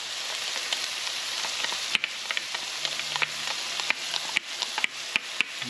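Garlic sizzles steadily in a hot pan as it softens, a continuous crackling fry punctuated by sharp pops and a few louder spatters, close and alone with no talk.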